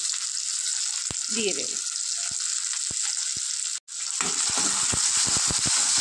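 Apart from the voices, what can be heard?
frying tomato and onion for dal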